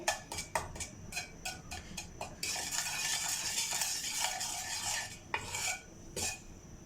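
Salt stirred into heated oil in a pan while making homemade popcorn, with quick metallic scrapes of a spoon followed by a steady soft hiss and further scraping, close and fairly quiet.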